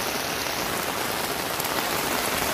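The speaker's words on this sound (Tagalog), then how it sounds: "Ang lakas-lakas ng ulan." Heavy rain pours steadily in Nepal, flooding the area, a dense continuous hiss of drops drumming on surfaces, loud and close, with no voices.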